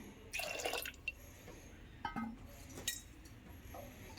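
Water is poured into cooking dal for egg torka, with faint splashes, drips and light clinks of a vessel in a quiet kitchen.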